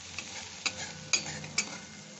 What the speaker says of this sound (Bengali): ছানাটা আমি নেড়ে নামিয়ে নিয়েছি